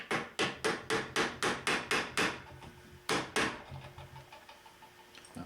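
A hammer taps a workpiece in a home workshop to nudge it into position, giving about ten sharp, evenly spaced knocks in quick succession, then a pause, one more tap and a few softer ones, close and clear with no talk.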